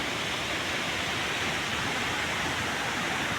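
Water pours steadily through an old stone check dam, a loud, continuous broadband rush with no breaks, close by and alone.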